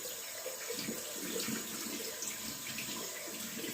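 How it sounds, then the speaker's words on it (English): Cold water runs from a bathroom tap into a sink, a continuous hissing splash that stays steady and close throughout with no talking. "If you hear a tap running, I'm running cold water over the burns."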